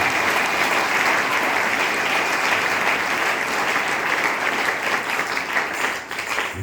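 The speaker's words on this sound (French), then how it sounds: "Acclamons très fort pour le Papa." A church congregation at a Sunday service gives loud, sustained applause that fills the whole stretch, steady throughout before easing slightly at the end.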